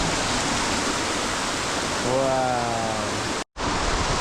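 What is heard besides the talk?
waterfall pouring into a small lagoon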